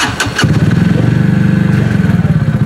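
An Italika Z-250 motorcycle that had a fuel-feed fault and kept stalling fires up after a few cranking bursts, then settles into a loud, close, steady rhythmic idle with no talking.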